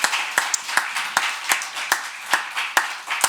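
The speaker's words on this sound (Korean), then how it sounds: "하나님 앞에 영광의 박수 먼저 올려드리겠습니다" A church congregation at a New Year's Eve worship service claps in unison, producing sharp, evenly spaced beats, roughly two or three per second, that are loud and close, with no talking.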